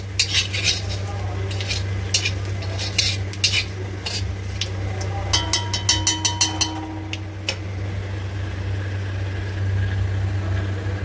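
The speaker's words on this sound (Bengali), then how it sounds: "এখানে হচ্ছে ভালো করে ফোড়ন নাড়িটা দিয়ে নেবো" Cumin seeds and two bay leaves tempering in hot oil for a chicken and potato curry, stirred with a metal spatula that gives quick rattling scrapes and clinks over a low steady hum and soft sizzle.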